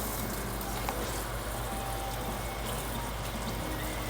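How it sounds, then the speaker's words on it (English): Water runs steadily, rinsing off a cutting board used for seasoned food, a constant close hiss and splash with no breaks. "so I'm gonna go ahead and rinse this off now."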